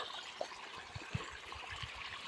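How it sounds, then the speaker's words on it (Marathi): Irrigation water runs through a sugarcane field in a soft, faint trickle and gurgle, with a few low splashy bumps over the steady flow and no voices. "मस्त असं उसाला पाणी चाललेलं आहे थंडगार."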